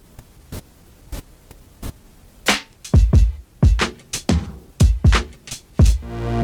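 Gated hi-hats in Ableton Live: sharp, regular hits with a steady hiss of noise floor left running between them by the gate's floor setting.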